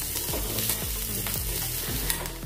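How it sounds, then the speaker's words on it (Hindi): Urad dal and chana dal roast in a hot pan while a spoon stirs and scrapes through them, giving a steady sizzle and repeated scraping strokes. "ये देखिए, थोड़ा सा हमने इसको भून लिया है, उड़द दाल और चना दाल को।"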